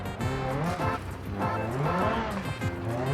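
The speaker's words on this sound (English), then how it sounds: "these new, like, transmission whine sounds are so good" Simulated car engine and transmission whine in the BeamNG driving game, a continuous tonal drone with gear-like pitch sweeps rising and falling, fairly loud and steady throughout.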